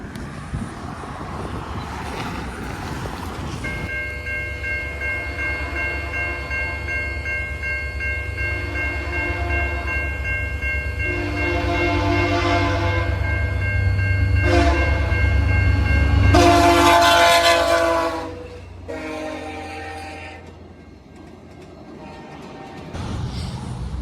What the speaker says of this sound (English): I can hear train whistles